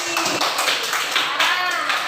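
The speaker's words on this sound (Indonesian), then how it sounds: "Tepuk tangan untuk Mas Randy." A class claps briefly for a student during a lesson, a short burst of close hand claps with students' voices and chatter mixed in.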